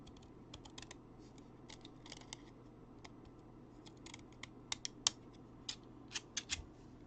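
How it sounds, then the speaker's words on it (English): Deco scissors cutting paper at a Christmas tree event, a quiet string of crisp snips and clicks in irregular bursts, growing a little sharper and closer toward the end, no voices. "So let's actually cut this down. And we'll use my deco scissors."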